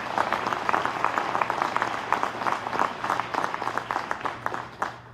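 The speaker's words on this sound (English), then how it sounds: "Let's give all of them a round of applause." Audience applause at a county executive inauguration ceremony, many hands clapping in a loud, close, rapid patter that thins and fades toward the end with a last few claps.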